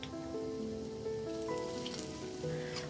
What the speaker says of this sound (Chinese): 油不太热时，可以加入切好片的红葱头